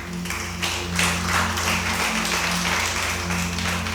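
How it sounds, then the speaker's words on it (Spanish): A church congregation applauds, with clapping building after a moment and holding steady, mixed with a low steady hum in the room. "Dale ese aplauso al Rey."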